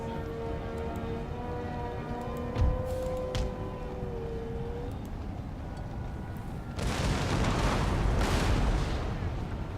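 Cannon fire in Empire Total War, distant battlefield booms with a sharp report near the start and a heavier rumbling barrage building in the second half over steady ambient battle noise and music.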